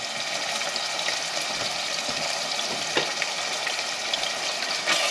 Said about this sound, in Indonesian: Ini kita tumis.